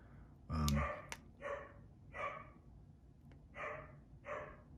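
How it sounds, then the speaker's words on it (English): A dog barks in a series of about six moderately loud, evenly spaced barks a short way off in a quiet indoor space, with the first bark fullest and the later ones lighter. "You guys can definitely hear the dog."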